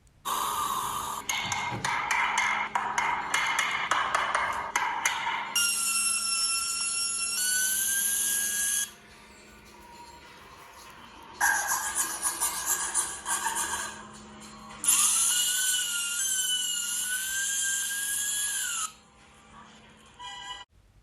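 A used Samsung phone plays its buzzer ringtone through its loudspeaker: loud, bright electronic tones come in two long bursts with sliding pitches, separated by quieter handling noise.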